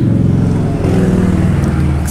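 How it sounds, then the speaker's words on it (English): A car passes by outside, a loud low rumbling engine and tire drone that holds steady across the whole moment without speech. "Excuse the passing car."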